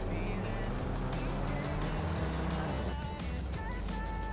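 A car engine drones steadily as the vehicle keeps driving in the survival game LifeAfter, with a sustained hum that shifts in pitch midway, a voice speaking faintly over it.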